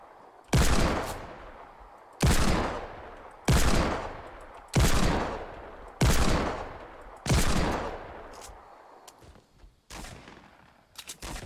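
Gunfire in the Fortnite video game, a series of about seven loud, sharp shots spaced roughly a second or more apart, each with a trailing echo that fades before the next.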